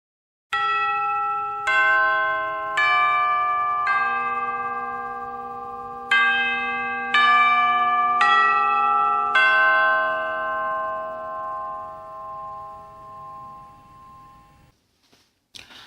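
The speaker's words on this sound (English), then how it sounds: "Chimes." A series of bright metallic chimes struck one after another at uneven intervals, each ringing and overlapping before slowly fading into silence.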